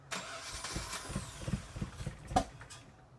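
A Nissan S14.5 engine cranks over in repeated pulsing turns and then catches, close and fairly loud, with no talk over it.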